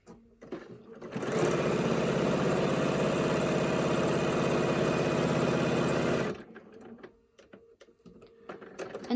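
A sewing machine runs steadily for about five seconds while stitching a pleated fabric mask, making a close, loud, even mechanical whir with a rapid needle rhythm, with quiet handling sounds before and after.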